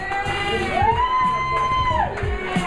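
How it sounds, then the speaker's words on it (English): A crowd packed inside a building cheers and applauds, with sustained whoops and a sliding, drawn-out shout rising over the general roar. "Everybody here in the building is giving you a round of applause, Premium Pete"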